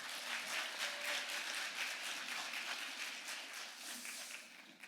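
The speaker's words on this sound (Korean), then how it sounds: "모두 큰 박수 부탁드립니다." An audience at a student carbon-neutrality contest presentation event at Seoul City Hall applauds to welcome the speaker, a moderate room-sized crowd clapping steadily with individual claps audible before it tapers off at the end.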